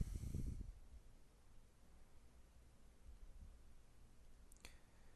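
A single crisp mouse click at the end of a quiet stretch, double-clicking a file to open the SSF Sega Saturn emulator on a computer; a brief low rustle precedes it.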